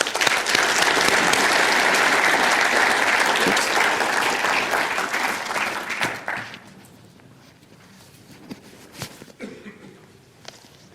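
A lecture-hall audience at a university public lecture claps loudly and steadily for about six seconds, then the applause dies away into scattered shuffles and footsteps.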